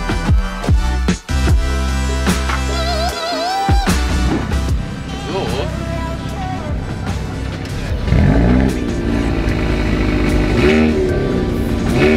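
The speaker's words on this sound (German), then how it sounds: "Ja, wir sitzen im i30 Fastback N." A Hyundai i30 Fastback N engine on the road, heard from inside the car: loud, steady drone with rising and falling revs as it accelerates and shifts, and faint voices now and then.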